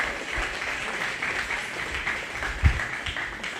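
An audience at a county fair 4-H/FFA swine show applauds the champion junior showman, a steady patter of many hands clapping throughout, with a brief louder thump partway through.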